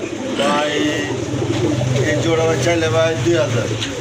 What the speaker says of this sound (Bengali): অসাধারণ এক জোড়া কবুতর